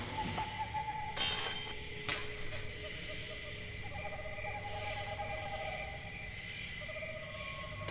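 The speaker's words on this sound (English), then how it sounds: "I heard the owl shriek and the crickets cry" A staged sound effect for a Macbeth scene plays a steady chorus of chirping crickets with an owl call sounding over it at moments, continuous and fairly faint.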